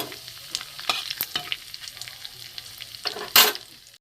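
Panch phoron spices, a bay leaf and a dried chilli sizzle in hot mustard oil, with a steady close crackle of frying and scattered stirring scrapes, ending in a louder sizzling burst.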